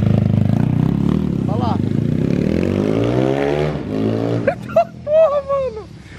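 A Honda Pop motorcycle engine bored to 285cc revs and idles steadily up close, with rising pitch sweeps toward the end, and people talking over it.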